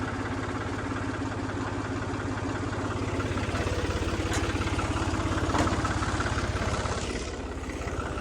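A tractor engine idles steadily with a low, even chugging rumble throughout, no voices.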